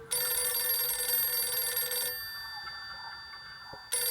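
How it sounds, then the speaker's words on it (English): Telephone bell ringing within a song, a loud, continuous electronic trill for about two seconds, then a quieter tail and a brief renewed burst at the end, with no talking. "Here he goes with a phone interrupting the whole video,"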